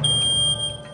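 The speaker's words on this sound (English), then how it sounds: "the photoelectric sounds the alarm" A photoelectric smoke detector sounds its alarm in a smoke test room, a piercing high electronic tone held steadily and loud, alone without voices.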